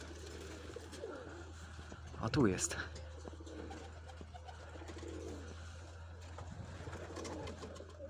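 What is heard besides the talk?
homing pigeons cooing at a pigeon loft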